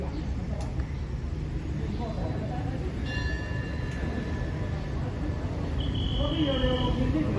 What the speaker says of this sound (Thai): เสียงระฆัง